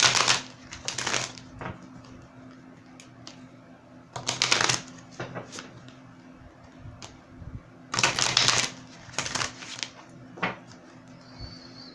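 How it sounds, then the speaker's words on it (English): A deck of oracle cards is shuffled by hand in three separate bursts of crisp riffling and flicking, each lasting under a second, with soft handling rustles in between against a quiet indoor room hum. "Let me give this one a shuffle."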